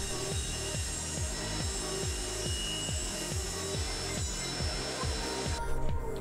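Rhythmic back-and-forth sawing through wood, cutting out wooden circles, quick even strokes repeating close by, with no talking.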